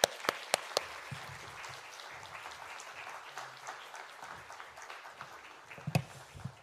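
A church congregation applauds to welcome a pastor coming up to speak. Several sharp claps open it, then softer, scattered clapping from a distance carries on over faint low voices.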